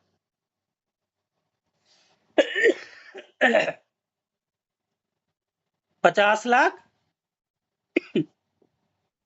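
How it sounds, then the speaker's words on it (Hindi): A few sharp coughing bursts spread across an online business meeting call, with a person talking between them. "थोड़ा सा खांसी आ गया सर"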